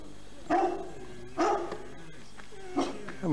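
Dogs bark in a village in the Welland Valley, heard as four separate, fairly close barks spaced about a second apart over a quiet outdoor background.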